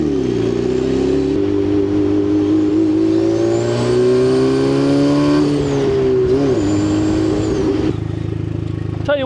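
A car powered by an 11-year-old crate engine runs at high speed on a straightaway, its loud engine drone holding steady, rising and falling with speed changes, close and continuous throughout.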